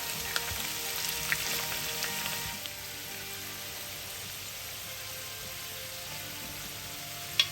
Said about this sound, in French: J'enlève le couvercle, je surveille, je fais revenir